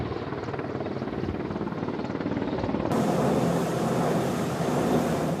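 Rescue helicopter hovering low over the deck of the sailing ship Belem, a loud continuous rotor and engine roar with wind buffeting that swells louder midway, no voices.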